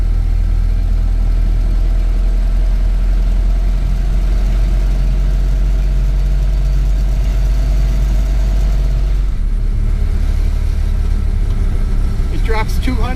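A Model A Ford fitted with a push-button overdrive runs close by, its engine holding a steady, rough low drone that shifts pitch and lightens abruptly near the end.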